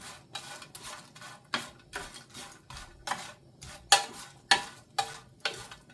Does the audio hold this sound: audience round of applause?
no